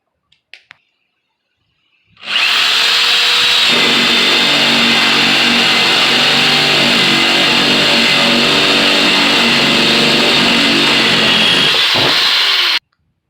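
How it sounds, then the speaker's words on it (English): A power drill drilling ventilation holes for an exhaust fan in a grow box whirs steadily for about ten seconds, loud and close, after a couple of brief clicks at the start. "drill holes accordingly so you can have holes for that airflow to go in and out"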